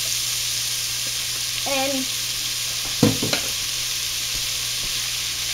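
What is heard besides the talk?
yellow squash sautéing in a pan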